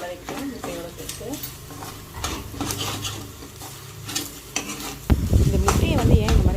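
Goat blood fry mixed with egg being stirred in a pan, with a spatula scraping and clattering over a soft sizzle, turning louder and busier toward the end.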